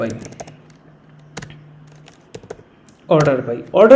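Scattered keystrokes on a computer keyboard while SQL code is typed, light irregular clicks close up, followed by a person starting to talk at the end.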